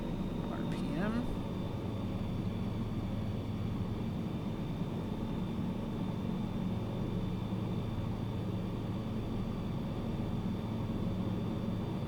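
Light aircraft engine at reduced throttle, about 4,000 RPM, in Microsoft Flight Simulator during a bush flight over Yosemite: a steady, even drone held throughout, with someone talking over it.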